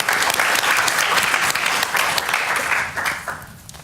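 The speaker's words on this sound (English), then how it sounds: "give a big round of applause" An auditorium crowd at a science-communication competition final in Ireland gives a big round of applause, loud and sustained through most of the clip before fading toward the end.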